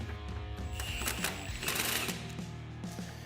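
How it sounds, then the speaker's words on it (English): A cordless impact wrench with an extension runs a nut down on a Honda Pioneer ball joint during a lift kit install, giving a steady, close buzzing rattle for a few seconds. "I like to give an extension and an impact, and I like to run the nut down all the way"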